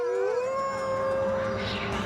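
A wild canine howls alone in one long, loud, wavering tone that rises and then holds steady, with faint whimpering overtones and no talk over it.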